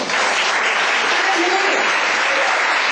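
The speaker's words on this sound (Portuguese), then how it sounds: "Você pode dar um aplauso ao Senhor?" A church congregation applauds during a sermon, continuous loud clapping from a large room filling the whole stretch, with some voices mixed underneath.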